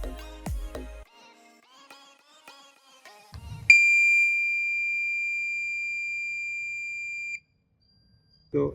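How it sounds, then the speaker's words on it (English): A ship's echo sounder depth alarm sounds after a few beeps and button taps: one loud, steady electronic tone holds for about four seconds and then cuts off. "if I put my alarm limit to 42 meter, there shall be an alarm over here"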